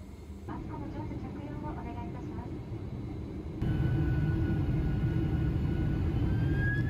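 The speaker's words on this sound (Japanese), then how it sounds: "この飛行機が飛び立つ瞬間って本当ワクワクしますよね。" Airplane engines drone inside the cabin, then surge abruptly louder into a steady roar partway through as the plane takes off from Haneda Airport.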